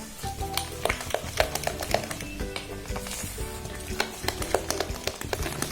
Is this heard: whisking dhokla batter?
yes